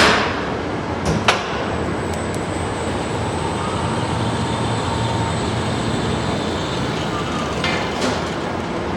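A Schindler Miconic TXR5 elevator machine with a replacement motor runs in its machine room, giving a steady broadband roar and hum throughout, with a couple of brief clicks near the start.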